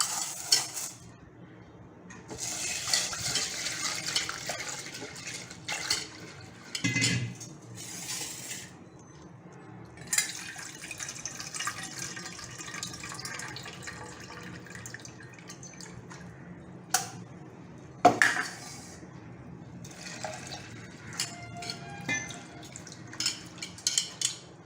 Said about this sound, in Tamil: இதை வந்து நம்ம நல்லா ஒரு 2 டைம் நல்லா தண்ணி போட்டு நல்லா கழுவிக்கணும்